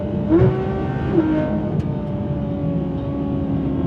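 Porsche GT3 RS with an IPE exhaust accelerating on open roads, its engine note climbing through two quick rising pulls and then holding a steady, loud drone.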